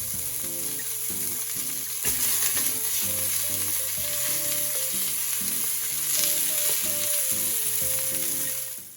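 Continuous close-up sizzling of beef short ribs searing in hot oil for nilaga, dense crackling spatter with occasional stirring knocks, no one speaking, tapering off at the end.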